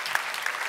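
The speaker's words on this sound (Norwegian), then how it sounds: "Da gir vi en stor applaus til flip over mannen eller kvinnen" Audience applause at a live stage event, a brief wash of many hands clapping at moderate level with a couple of sharper claps standing out.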